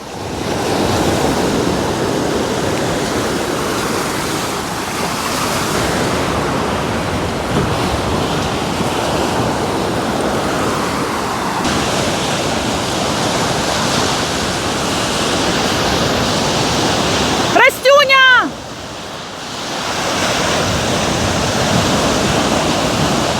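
Sea waves wash onto the shore in a continuous, loud roar of surf, mixed with wind buffeting the microphone and a brief whistling burst near the end.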